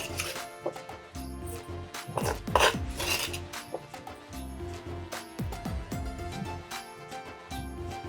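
Boiled potatoes are rubbed against a grater in short, repeated rasping strokes, close and moderately loud, with light clinks of kitchenware between passes.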